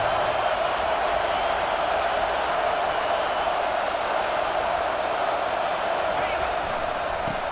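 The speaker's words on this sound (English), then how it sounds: "this crowd coming to life here trying to help the defense get a stop with the offense pinned back" Stadium crowd roaring in EA Sports College Football 25, a loud, steady wall of cheering and noise that holds throughout without a break.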